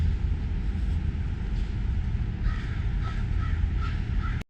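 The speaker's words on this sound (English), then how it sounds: "I don't even know what they are, if they're crows or ravens." Several crows or ravens caw in short repeated calls, a few at a distance, over a steady low rumble of traffic in Idaho Falls, Idaho.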